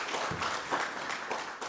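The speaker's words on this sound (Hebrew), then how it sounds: "מגיע להם כפיים פה על הבר מצווה שעשו לילד" A crowd applauds the parents at a bar mitzvah gathering, with a short burst of steady, dense clapping from many hands in a reverberant room.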